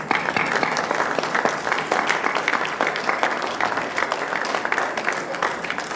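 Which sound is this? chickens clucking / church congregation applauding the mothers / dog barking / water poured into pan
church congregation applauding the mothers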